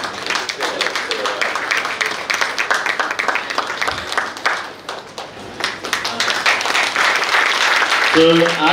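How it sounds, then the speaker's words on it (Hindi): Audience applause welcoming a lucky winner at a bypass walkathon event held by a heart hospital in Nagpur, a dense, steady patter of clapping sustained throughout, with a short louder burst near the end and voices mixed in. "जोरदार तालियों से स्वागत कीजिए हमारे लकी विनर का"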